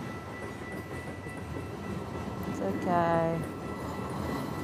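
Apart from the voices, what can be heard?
long freight train passing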